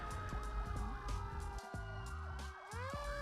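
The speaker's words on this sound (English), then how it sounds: "In this scenario, we'll have a fire truck coming up from behind" A fire truck siren wails from behind on a road in Burnaby, B.C., its rising and falling tone sweeping repeatedly over the low drone of car and traffic noise, moderately loud and steady.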